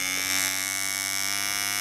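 Brand new electric hair trimmer switched on and running, a close steady high-pitched buzzing whine with a humming drone, continuous and unchanging.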